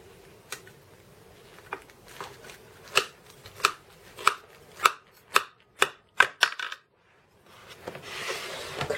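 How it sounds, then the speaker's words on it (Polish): A knife cuts through a baked casserole of leftover cold cuts with onion and cheese, a series of about ten crisp, sharp chops in an uneven rhythm, close and clear, ending in a softer scraping rustle. "I teraz przechodzimy do pokrojenia sobie i nałożenia"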